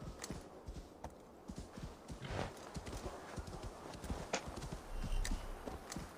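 Horse hooves clip-clop in steady rhythm as a mount travels across open-world terrain in Assassin's Creed Valhalla, fairly close and clear, with an occasional faint whinny and no talk.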